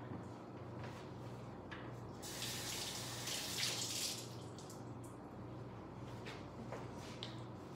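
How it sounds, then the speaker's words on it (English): Eggs rinsed under a running kitchen tap, a steady hiss of flowing water with a brighter, splashier rush in the middle as the water strikes them. "just let me rinse this off"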